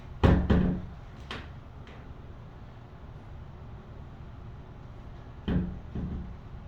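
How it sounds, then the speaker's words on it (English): A big-box-store pre-hung interior door shuts flush in its frame, with a few sharp wooden knocks and clunks near the start and another firm close about five seconds later, quiet in between. "door closes nice and flush"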